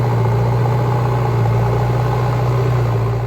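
A tractor engine runs steadily in a garden being made over, a loud, constant low idling drone with a strong hum and no break or change in pace.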